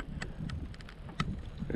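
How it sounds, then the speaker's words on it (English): Strong wind rumbles and buffets against the microphone in a steady low roar, with faint clicks and taps. "It's super windy today."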